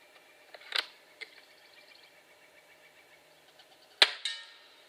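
Two sharp shots from a Ruebel QB 57 air rifle with a heavy recoil spring, one just before the one-second mark and a louder crack near four seconds, each with a brief metallic ring in a quiet room.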